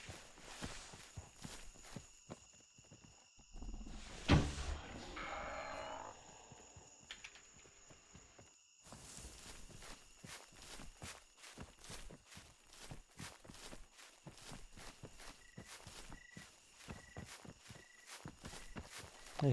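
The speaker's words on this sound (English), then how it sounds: "I hear footsteps all around me." In the video game theHunter: Primal, footsteps crunch steadily on the ground during a dinosaur hunt, a long run of repeated treads with a brief louder burst early on, close and continuous.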